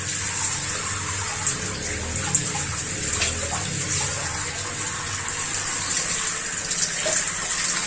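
Hot water from a gas water heater runs from the tap in a steady, close gush with a constant hiss and small splashes throughout.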